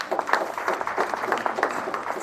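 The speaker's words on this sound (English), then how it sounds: "I request all of us here to put our hands together and just give a clap to our" An audience at a formal event announcing national KCPE 2021 exam results claps together, a modest, somewhat distant ripple of applause that holds steady for a couple of seconds without speech.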